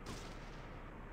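Gunfire in Fallout 2, a single heavy muffled blast with a dense rumbling decay, loud and close, no talking.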